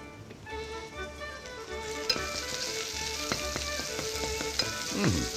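Chopped onions fry in a pan for an Armenian bozbash with peas, giving a steady close sizzle broken by sharp clicks and scrapes of stirring.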